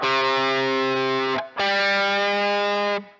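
A heavily distorted electric guitar plays a sustained riff in two long chords, briefly cutting out in between, loud and alone.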